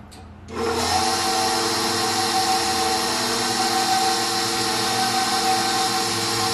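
A ZACME pasta attachment on a stand mixer starts up and runs with a steady, loud mechanical whir and hum as it processes a chunk of dough, with no talking.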